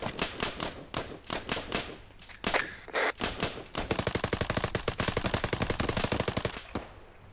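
Rapid gunfire in the video game Arma 3, with scattered single shots and short bursts giving way to a long, fast automatic volley, loud and close, followed by a brief quieter pause.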